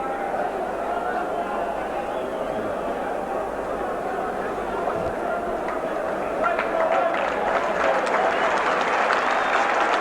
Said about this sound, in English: Great round of applause going up for Whitfield after that long run.